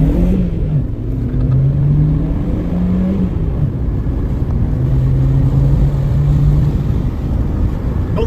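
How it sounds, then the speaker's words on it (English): A car accelerating on a Formula One track gives a loud, close engine drone that climbs in pitch through the gears, drops at each shift and then rises again, with no talking over it. "what else to do but drive the Formula One track?"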